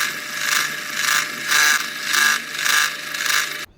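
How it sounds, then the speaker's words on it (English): A drill press bores pilot holes through two clamped steel plates for a custom truck bumper. A steady, loud drilling whir rises and falls in regular cycles as the bit feeds through the metal, then cuts off abruptly at the end. "And drill pilot hole here, pilot hole there, and then start slotting these plates."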